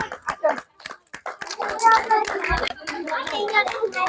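Applause at a rural women's village football game, with scattered claps and then fuller clapping from a crowd, heard close and mixed with children's voices and chatter throughout.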